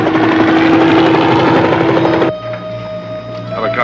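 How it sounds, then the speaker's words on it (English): A loud, dense helicopter roar fills the air, then abruptly drops to a lower steady hum with a faint whine. "There's a helicopter directly overhead."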